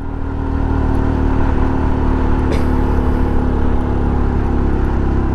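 A motorbike labours up a steep mountain road near San Jose, Tarlac, its engine a steady, strained drone that stays loud and close for the whole stretch, with no talking.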